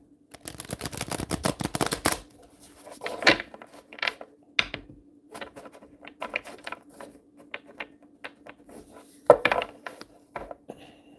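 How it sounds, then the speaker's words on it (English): Oracle cards of a Light Code deck riffled and shuffled by hand, a quick burst of close crisp flutters followed by scattered soft taps and slides, fairly quiet with no talking. "one more shuffle off, I guess"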